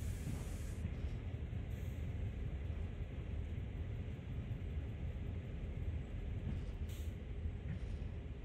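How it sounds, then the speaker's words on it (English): Air brakes hissing on a CSX heavy haul freight train in the Train Sim World 2020 video game, a steady low rumble with faint high hiss bursts near the start and end. "So let's bring it to a stop. Move the auto brake to initial reduction."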